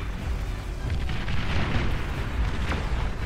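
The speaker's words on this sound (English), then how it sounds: "Ooh, comm explosion." A commander unit explodes in the Beyond All Reason real-time strategy game, a loud, sustained rumbling blast that stays heavy and dense for several seconds amid ongoing battle noise, with no speech.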